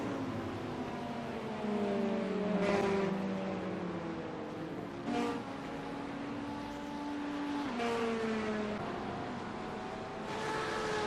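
Race cars in the iRacing sim, engines droning and shifting pitch as several cars rev and pass one after another, each climbing whine rising and dropping over a continuous mechanical hum.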